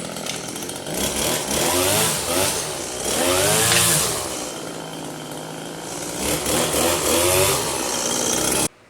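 A salvaged two-stroke weed eater engine pulled into life, buzzing loudly with repeated revs rising and falling before cutting off abruptly at the end.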